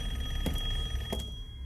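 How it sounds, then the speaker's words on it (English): A telephone rings inside a house in the Resident Evil Village video game, two short bursts of ringing about half a second apart over a steady low hum of background ambience. "there's a fucking phone ringing"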